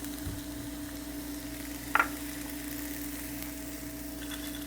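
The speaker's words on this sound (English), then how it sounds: "Then I'm just gonna let this saute for a while." Garlic and okra sautéing in butter in a skillet, a faint steady sizzle beneath a constant electrical hum, with one sharp clink of a utensil against the pan partway through and no talking.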